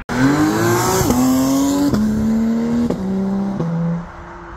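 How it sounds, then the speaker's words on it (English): Porsche GT3 accelerating hard away on a European road, its engine screaming up through several rising rev sweeps with quick gear shifts, loud and close at first, then fading as it pulls away. "This GT3 just bombed it off, right?"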